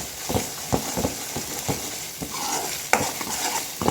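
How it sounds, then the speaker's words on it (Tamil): Masala sautéing in oil for Chettinad chicken gravy, a soft continuous sizzle broken by repeated spoon scrapes and taps against the pan, close and moderately loud, with no voices. "எண்ணெயிலேயே எண்ணெயிலே நல்லா வதக்கணும்"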